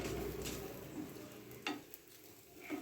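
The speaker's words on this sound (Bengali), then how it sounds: "প্রত্যেক পরোটাটা আমি এরকম করে ভেজে নেব" Stuffed cauliflower paratha frying in a little oil in a pan, a soft continuous sizzle with occasional scrapes and taps of a spatula pressing it, close and quiet.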